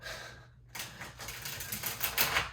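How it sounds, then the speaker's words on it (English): A rapid riffling flutter of cards being shuffled, a soft crisp burst of flicking paper close by after a brief pause. "I do want to do one big shuffle with the tarot cards."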